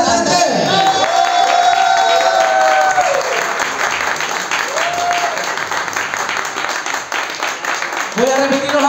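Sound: audience applause for a contestant

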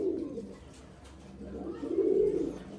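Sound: pigeons cooing

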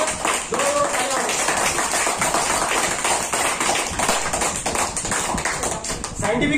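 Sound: students clapping hands loudly

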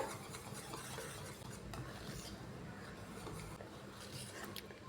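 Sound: stirring banana batter with baking soda in a bowl

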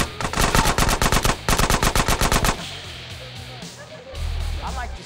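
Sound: gunfire in video game GTA San Andreas

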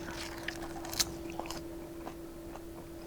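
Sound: biting and chewing wasabi leaf wrap

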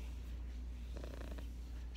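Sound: cat purring

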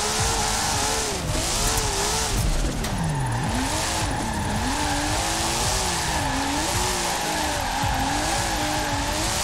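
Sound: Nissan Skyline R34 drifting, tire squeal in Forza Horizon 4 video game

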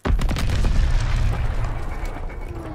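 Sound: grenade explosion in WW2 video game

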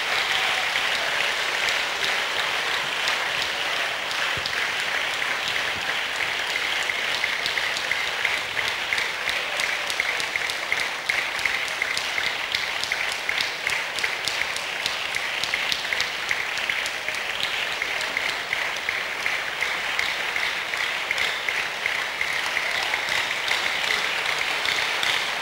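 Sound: congregation clapping in church

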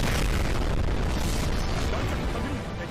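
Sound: warship main guns firing in a video game

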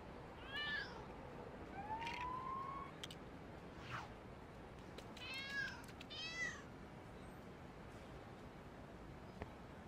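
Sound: cat meowing in LEGO City Undercover video game

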